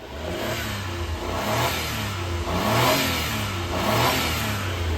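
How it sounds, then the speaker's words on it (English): A Honda Acty engine revs up several times in close succession, each rise swelling in pitch and loudness before easing back toward idle, heard up close with no talking. "Give it a couple revs."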